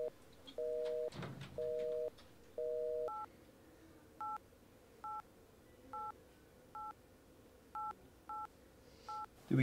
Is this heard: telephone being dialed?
yes